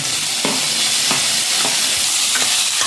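Chopped tomatoes fry with a steady loud sizzle in a pan for egg gravy, while a spoon scrapes and stirs through them every half second or so, close up.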